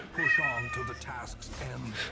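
A domestic cat gives a drawn-out, wavering meow close by, followed by fainter vocal sounds, over soft game background audio.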